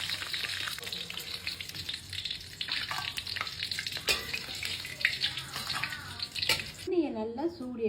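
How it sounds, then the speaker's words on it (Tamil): Dried chillies double frying in hot oil, a dense close crackling sizzle with scattered pops that runs steadily, then a voice speaks over the frying near the end. "நல்லா சூடு ஏற்றிட்டு திரும்பவும் அதே பட்டை மிளகா எண்ணெயில் சேர்த்தேன்."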